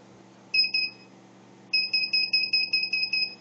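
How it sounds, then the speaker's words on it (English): Microwave radar motion sensor alarm set off by a hand waved in front of it, giving a short burst of electronic two-tone warbling beeps, then a longer run of rapid pulsing beeps, clear and close in a quiet room. "let me put my hand in front of the radar and I'll set off the radar"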